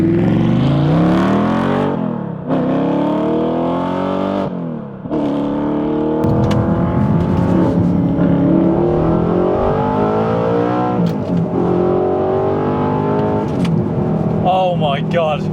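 An Audi R8 engine drones loud and close from inside the car, revving and climbing through gears with repeated rising sweeps and brief dips at shifts, while people talk over it.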